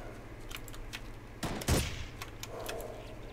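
Teammate gunfire in the tactical shooter game Ghost Recon: a quiet, hum-filled backdrop broken by one loud, rapid burst of shots midway, then fading back to low ambience.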